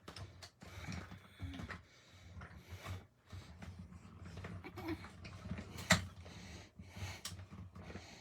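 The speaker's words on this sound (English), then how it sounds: "And then I'm going to die cut those both at the same time." A die cutting machine runs card pieces through its rollers, giving a faint, close grinding and clicking mechanical whir with uneven pulses and one sharp click midway.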